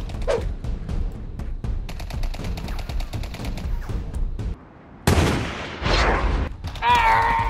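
Gunfire in the online shooter Sub Rosa rattles in rapid bursts, with tightly spaced shots and a louder burst after a brief pause, then a rising tone at the end.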